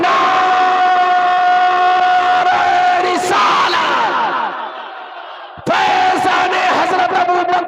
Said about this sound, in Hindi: पूरा मजमा अपने हाथों को फिजाओं में बुलंद करते हुए नारा लगाए, नाराए तकबीर